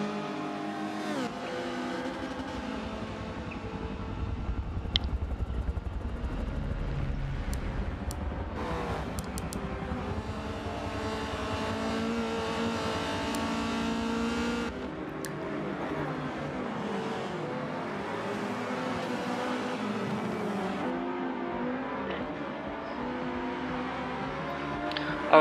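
Vintage DTM race cars lapping Suzuka in a racing video game, a continuous loud engine drone with shifting revs, gear changes and passing cars throughout, no talk over it.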